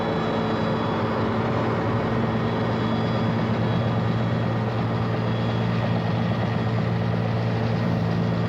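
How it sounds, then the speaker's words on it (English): Military helicopters of the South African Defence Force ferrying troops, provisions and water in the Angolan border war, their rotors and engines making a loud, steady, continuous drone that fills the whole stretch without a pause. "a fleet of helicopters is employed, bringing in fresh troops, provisions and water"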